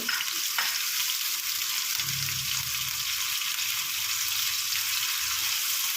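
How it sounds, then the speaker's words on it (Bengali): Ginger, garlic and two green chillies frying in oil in a single cooking pot, a steady close sizzle running throughout with a soft stirring scrape partway through. "এর মধ্যে এই যে একটু আদা, রসুন আর 2টো কাঁচা লঙ্কা এটা একটু ভেজে নেবো।"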